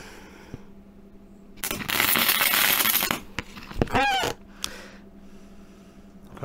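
A gasless MIG welder runs on a car body panel in one loud, crackling, hissing burst of about a second and a half. Sharp clicks and scraping handling noises follow in an otherwise quiet workshop.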